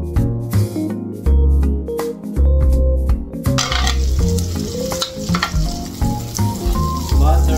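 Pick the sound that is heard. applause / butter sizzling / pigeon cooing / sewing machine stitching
butter sizzling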